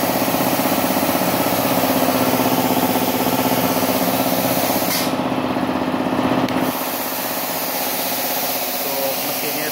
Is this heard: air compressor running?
yes